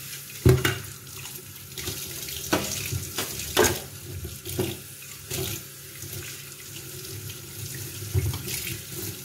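Sweet potatoes are washed under a running kitchen tap, with a steady stream of water splashing into the sink and occasional louder splashes and handling knocks close by.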